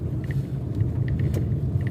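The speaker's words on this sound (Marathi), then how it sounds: "आपण हळूहळू गाडी चालवत" From inside a car creeping slowly over a rough, potholed road comes a continuous low rumble with faint knocks and rattles from the bumps.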